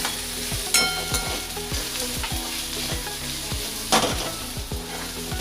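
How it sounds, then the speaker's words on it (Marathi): Cashews are stirred into a sizzling restaurant-style paneer gravy in a hot pan, with steady close frying hiss broken by a quick series of scraping spoon strokes, and no talking. "आणि त्यामध्ये आता मी 10 काजूची गरं टाकणार आहे आणि त्यांना पण आता व्यवस्थित मिक्स करून घेते।"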